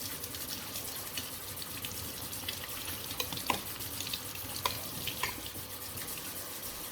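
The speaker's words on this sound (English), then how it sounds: "So this detergent will help to wash and scrubbing of them very easily." Equipment being washed and scrubbed with detergent and water during sanitization work, heard as steady running water and wet scrubbing with scattered clinks and splashes, continuous and fairly close.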